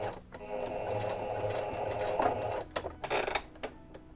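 A sewing machine stitching a hat, a close, steady mechanical whir with rapid needle ticking that stops and restarts in short bursts near the end.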